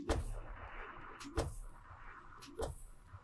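Gunfire aimed at a boss in the video game Palworld: three sharp shots with gaps of about a second or more, each standing alone over a steady low game ambience.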